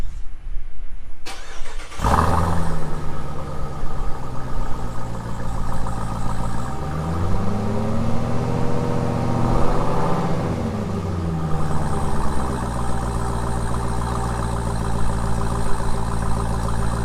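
A 2018 Jeep Trackhawk engine cranks and fires after a moment of quiet, flaring loudly in a rising and falling rev before settling into a deep, steady idle up close.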